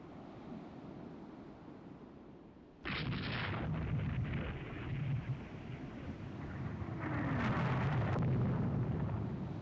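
Naval gunfire and shell impacts in the warship strategy game Rule the Waves 3: after a quiet stretch a loud burst of booming fire and rumbling hits starts and continues, swelling again near the end with dense explosive noise.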